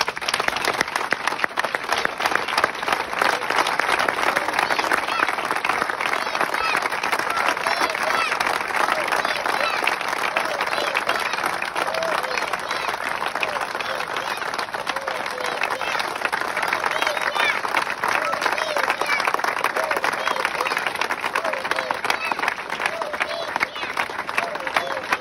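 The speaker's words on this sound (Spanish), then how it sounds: "un aplauso para papá y para Nahuel otra vez" A large crowd at a justice march gives sustained, dense applause for about twenty-five seconds, steady and close, with a murmur of voices beneath the clapping.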